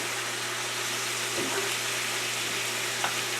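Sausage meat sizzles in a pan as its juices cook back in, a soft, steady frying hiss with a faint low hum beneath and a couple of small pops, no talking.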